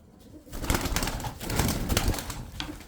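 Low, throaty cooing from tumbler pigeons from Kırşehir, close and moderately loud, rising after a quiet start, mixed with faint rustling and occasional wing sounds and no speech.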